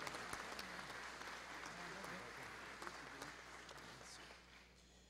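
At a formal solemn session honoring the Santos Dumont Foundation's board members, an audience claps steadily in a large chamber, faint and distant with a low hum and some speech underneath, fading slightly toward the end.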